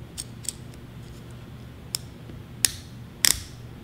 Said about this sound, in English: You just pull the strap and the buckle will just come right out. So you can hear it ratchet in.